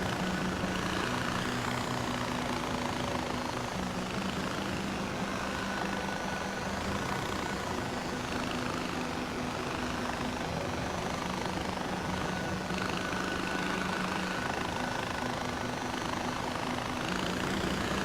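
In the video game Far Cry 4, a helicopter flies steadily nearby, its rotor drone and engine roar continuous and loud without a break, with no speech over it.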